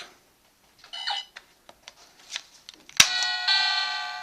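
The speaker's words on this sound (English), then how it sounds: "5 is a doorbell." A few button clicks and a brief tone from a toy phone, then a sharp click and a bright electronic two-tone doorbell chime ringing out and fading, close and clear.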